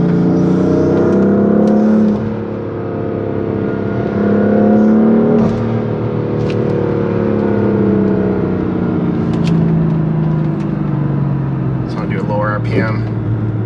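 A BMW F80 M3 fitted with a VRSF intake drones loudly from inside the cabin, the engine note rising and falling as it revs, while someone talks over it throughout.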